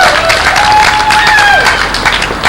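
Loud audience applause with a few cheers rings out at a live talk event, close and dense throughout, with whistles cutting through the clapping.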